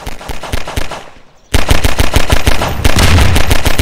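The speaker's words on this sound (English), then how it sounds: "I have a gun!" Rapid automatic gunfire from a gun in the video game Garry's Mod, loud, close bursts of evenly spaced shots that briefly stop, then resume even harder and continue to the end.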